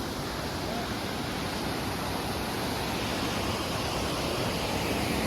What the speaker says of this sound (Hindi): ये देखो वाटरफॉल का खूबसूरत झरना है